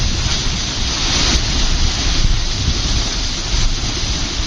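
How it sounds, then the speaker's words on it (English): A huge whirlpool sucks down water with a loud, constant thunderous roar, a dense wall of rushing noise that is close and unbroken throughout. "That thunderous noise is the whirlpool."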